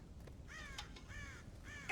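Crows caw in the video game Red Dead Redemption, three harsh, evenly spaced calls standing out clearly over a quiet low rumble of outdoor ambience.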